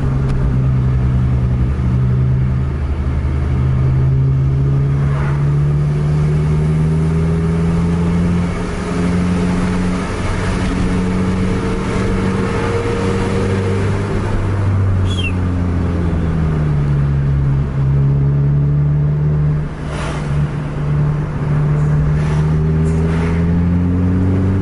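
A Pemtoh 007 bus in a Medan bus race revs its engine hard, a loud, sustained low drone with rising and falling pitch sweeps continuing throughout, joined by other bus engines nearby.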